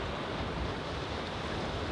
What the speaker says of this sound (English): Like the waves?